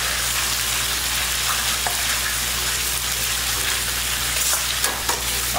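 Shredded pork fries in hot oil in a wok, a loud dense continuous sizzle close up with occasional faint clinks, no talking.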